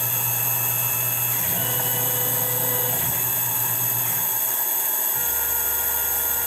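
A CNC mill slowly lowers its probe to touch a workpiece surface during pocket clip making. A steady motor whine and hum stays loud and constant, shifting in tone a few times as the axis moves, with no talking.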